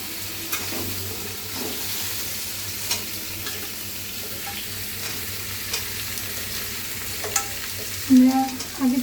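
Ash gourd pieces stir-frying in a pan for a restaurant-style Chinese vegetable dish, a low steady sizzle with occasional utensil scrapes and a brief louder clatter near the end.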